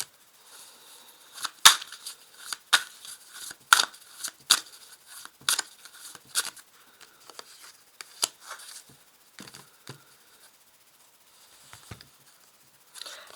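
Tarot cards being handled and drawn from a deck, soft scattered snaps and brushing slides at close range, irregular and light, with quiet gaps between the flicks.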